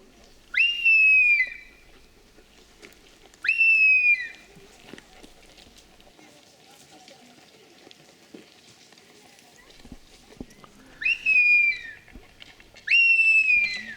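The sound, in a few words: man whistling imitating bird calls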